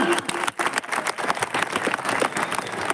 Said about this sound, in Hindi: छोटे छोटे बच्चों के लिए एक बार जोरदार तालियां